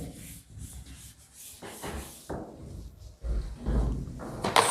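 Writing is rubbed off a board during a zoology genetics lecture, heard as several short, irregular scrubbing strokes close by, mixed with a couple of light knocks and no speech.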